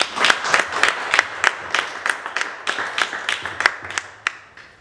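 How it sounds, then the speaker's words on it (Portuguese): Sparse, evenly spaced handclaps from a small audience at a poetry reading during a book collection launch, each sharp clap standing out clearly over a quiet room for the whole stretch. "Acho que merece uma salva de palmas, não é?"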